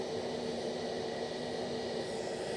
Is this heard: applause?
no